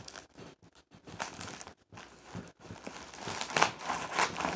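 Packing padding inside the shipping box of a PXN-2119 II HOTAS flight controller crinkles and rustles in irregular bursts as it is pulled and handled, close and fairly loud with short gaps.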